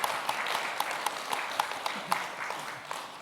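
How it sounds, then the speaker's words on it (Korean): An audience at a religious leaders' session of an international conference in Korea gives welcoming applause, a moderate, fairly distant patter of many hands with a few sharper individual claps rising through the steady wash. "다 같이 환영하는 의미에서 큰 박수 한번 보내주시면 감사하겠습니다"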